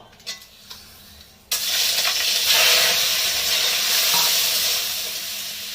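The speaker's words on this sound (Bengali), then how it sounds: "এবার চিংড়ি মাছটা প্রথমে আমি ভেজে নেবো।" Washed prawns hit a hot pan for frying. After a quiet start, a loud, steady sizzle bursts in and keeps crackling without a break.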